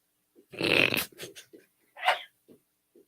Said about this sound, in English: Love wiener dogs.